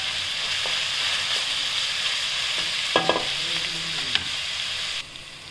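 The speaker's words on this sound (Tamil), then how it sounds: "இப்போ வெங்காயம் நல்லா வதங்கிடுச்சு" Onions sautéing in a pan until golden brown, a steady close sizzle with scraping stirs and a few utensil clinks, cutting out near the end.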